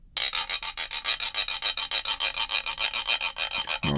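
Rubbed mesquite wood raspador resting on a gourd resonator for deer dance music, giving a fuller, ringing rasp in a quick, even run of about twenty-five strokes, close and loud, ending with a short low thump.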